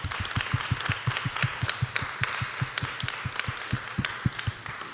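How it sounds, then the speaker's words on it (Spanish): Audience at a panel discussion on critical fashion technology design applauding the panelists, a sustained round of many hands clapping at a quick, steady pace, moderately loud and continuing for several seconds without speech. "Un aplauso para ellas, por favor."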